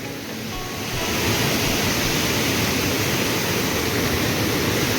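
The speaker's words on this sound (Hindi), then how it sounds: "बारिश तेज होने के कारण और ज्यादा झरना बह के आ रहा थे।" A waterfall on the way to Munnar roars under heavy rain, a loud, steady, broadband rush of falling water that swells after the first second and then holds constant.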